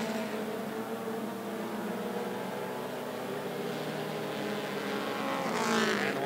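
Mini stock race cars at 411 Motor Speedway roar around the track in a dense, sustained engine drone with layered revving tones, swelling slightly louder near the end as cars pass close.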